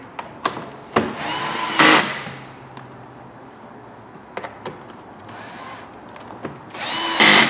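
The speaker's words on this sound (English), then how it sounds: "we're just going to tighten those 4 screws up" A power tool drives air filter housing screws on a 6.0L Chevrolet or GMC truck, with short whirring bursts of the driver separated by small clicks and handling noises, close and clear.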